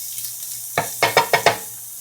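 Garlic dropped into a hot pan for a beef and onion stir fry, giving a quick series of four or five sharp sizzling bursts under a steady low hum, close and fairly loud.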